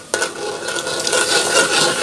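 Squid stir-fries with shallots, galangal and lemongrass in a hot pan, a sudden loud sizzle that swells into continuous close frying hiss with faint stirring.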